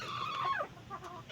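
A white Kelso chicken clucks in a short run of close, moderately loud calls, with brief pitched vocal notes over a faint farmyard background.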